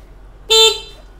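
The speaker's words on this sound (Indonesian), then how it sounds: "Itulah bunyi klaksonnya kan." A single short electric horn beep from a Smoot Zuzu electric motorbike, loud and close, lasting under half a second against a quiet background.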